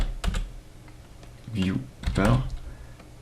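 A computer keyboard is typed on in short bursts of close clicking keystrokes, with someone speaking briefly between them.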